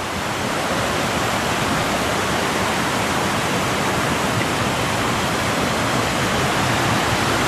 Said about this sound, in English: this water is really cold. It's from the melting glaciers in the mountain.